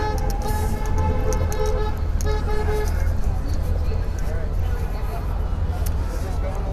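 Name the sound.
car horns honking in traffic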